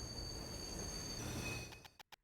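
A train riding and then stopping in the video game Little Witch in the Woods, a steady rumbling roll with a high squeal that fades as it slows, ending in a few sharp clunks.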